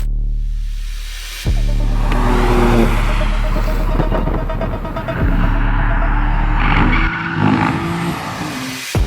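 A BMW M2 drives out onto a race track, its engine loud and close, revving up and down through several gear changes with sharp shifts between steady pulls.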